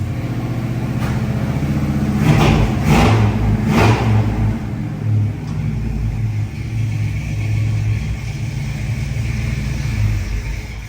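A 1957 Chevy engine that has sat unused runs with a low, uneven rumble, surging in a few rough revs before settling into a steady idle close by.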